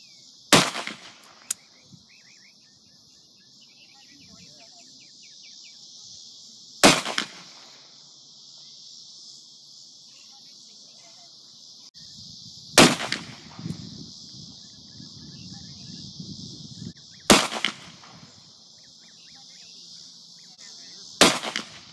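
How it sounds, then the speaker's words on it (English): Four sharp, loud shots from a Ruger LCR revolver with a 1 7/8 inch barrel firing .38 Special +P hollow points into bare gel, spaced several seconds apart outdoors, with faint handling noise between. "I'll be shooting these from my Ruger LCR, which only has a 1 7/8 inch barrel"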